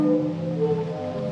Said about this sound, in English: Surrounded by the sound of the sea organ